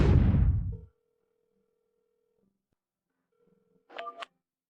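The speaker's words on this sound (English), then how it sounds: "Why isn't this guy answering his phone?" An unanswered phone call rings out with a steady, sustained ringback tone, repeated twice with a pause between, framed by a loud rustling burst at the start and a short burst of noise at the end.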